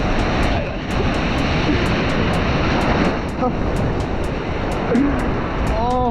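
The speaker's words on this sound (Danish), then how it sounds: "Og bølgerne de går nok sådan ret vilde allerede her." Rough ocean surf off a beach at Florianópolis roars as a dense, continuous wash of breaking waves, loud and close, with faint rhythmic ticking and brief chirps over the top.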